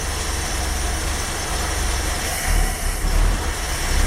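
A Dodge D150 pickup's 225 Slant Six runs rough on a cold start after sitting, with its choke wired open, a dense rumbling engine noise with uneven low-end surges and stumbles close by.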